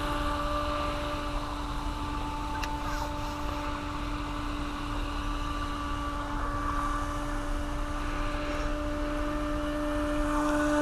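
A speedboat engine at full throttle holds a steady, fairly quiet drone with a constant pitch and broad rushing noise, heard alone.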